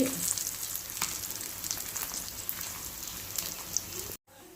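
Pieces of kendai carp sizzle steadily in hot oil as they fry until browned, a close, even crackle with small pops, cutting off abruptly near the end.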